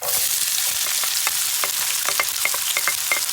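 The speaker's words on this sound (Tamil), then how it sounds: "இது பொரிஞ்சிட்டு இதுக்குள்ளே வெங்காயத்தை கொட்டுறோம்" Onions tipped into hot oil where cumin and fennel seeds have been frying for a beetroot stir-fry: a loud, steady, crackling sizzle with scattered sharp spatula scrapes and pops throughout.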